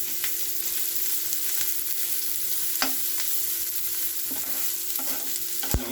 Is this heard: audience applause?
no